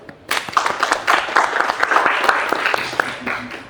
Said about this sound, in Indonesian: Bolehlah tepuk tangan.